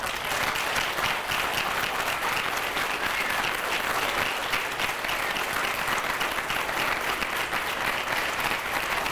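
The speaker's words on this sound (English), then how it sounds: "If we can give them a round of applause, inductees stand up." An audience in a hall gives a sustained round of applause for hall of fame inductees at an induction ceremony, dense steady clapping from many hands that continues evenly throughout.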